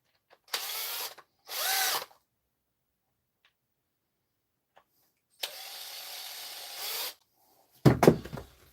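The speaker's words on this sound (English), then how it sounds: "So I'm going to put in a couple of screws here." A handheld power drill drives screws to hold a body together during assembly, firing in four separate bursts of whirring, two short ones close together, a longer run, then a final rough burst, with silence between.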